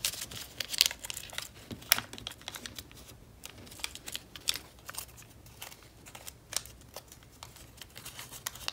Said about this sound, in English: you can fold your wings down